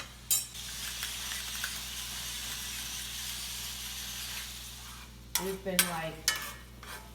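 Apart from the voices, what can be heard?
sauteing tomatoes and olives in a pan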